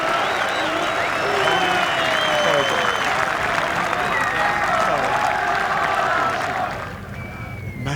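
A large golf crowd at the 2018 Ryder Cup applauds a shot. The clapping is sustained and dense and sounds broad and continuous, with murmuring voices and scattered calls mixed in. It eases off slightly toward the end.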